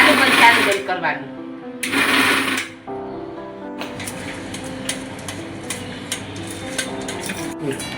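Kitchen mixer grinder pulsed on and off to coarsely grind roasted gram flour for Gujarati mohanthal, short loud whirring bursts separated by brief pauses, followed by clattering and rattling as the jar settles.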